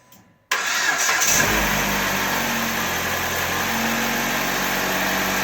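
A Jeep Compass engine cranks and fires up after a no-start fix, settling into a steady idle close by, with no talk over it.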